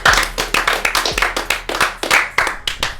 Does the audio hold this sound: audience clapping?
yes